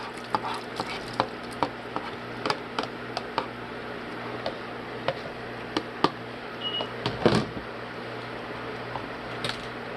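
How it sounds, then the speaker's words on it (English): Chicken steak stirred into gravy in a pan, with scattered light scraping clicks and soft tapping over a low, steady simmering hiss, close up and without talk. "I'm going to add my chicken steak to the gravy"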